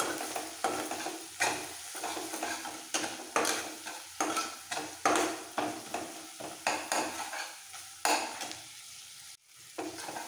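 Grated ginger sizzles in a hot pan while being stirred for a vegetarian motor methi malai curry, with steady frying hiss and rhythmic, close scraping strokes of a spoon repeating every second or so, alone without speech.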